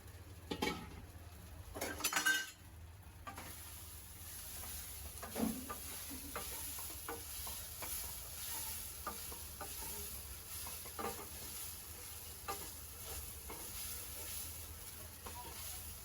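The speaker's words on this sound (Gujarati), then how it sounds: "હવે આ પૌવા નાખીશું." Poha goes into a pan and is stirred, with a quiet frying hiss under repeated light scraping and clinking of a spoon, a louder clatter near the start and faint background voices.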